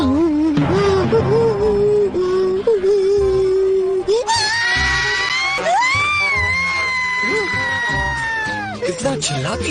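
A woman in a Dragon Ball Z cartoon screams loudly and shrilly, a long sustained high-pitched cry that rises over earlier shouting and continues for several seconds, close and loud.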